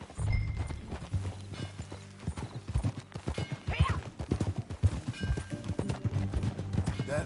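Horse hooves clip-clop at a steady walking pace in the video game Red Dead Redemption II, rhythmic and fairly close, with a brief whinny in the middle and ambient game sound underneath.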